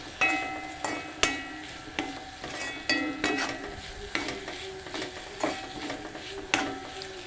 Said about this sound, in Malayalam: ഇനി നമുക്ക് ഇതിനകത്തേക്ക് മുളക് പൊടി ഇട്ടിട്ട് ഒന്ന് ഇളക്കാം.